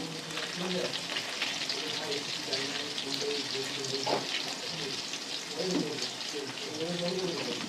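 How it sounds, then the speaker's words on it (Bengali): Potatoes sprinkled with salt frying in oil, giving a continuous soft sizzle with intermittent stirring scrapes at a fairly low level. "লাল লাল করে আলু কটা ভেজে নিই"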